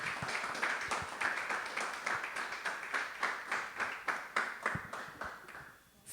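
A church congregation applauds at a Sunday worship service, a moderate field of claps spread through the room, steady across the whole stretch and tapering off toward the end.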